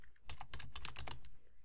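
Rapid, irregular keystrokes on a computer keyboard as a name is typed, a close, steady burst of clicks with no talking.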